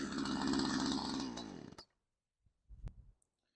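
An old Craftsman chainsaw, left outside for years and with a leaking crank seal, runs at a strong idle for almost two seconds and then cuts out. A couple of faint knocks and rattles follow in the quiet.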